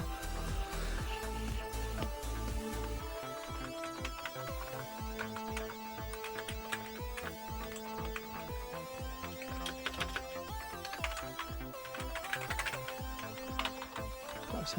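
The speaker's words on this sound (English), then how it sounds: "One thing I didn't do before was try the keyboard." Keys clatter on a Commodore Amiga A600 keyboard as it is tested, with rapid uneven typing that runs continuously and close up, set against a steady background hum.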